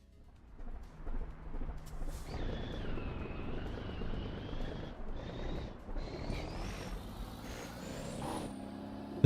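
A loud truck engine in American Truck Simulator rumbles close by, with a rising whine and hissing bursts of an air brake, with no talking.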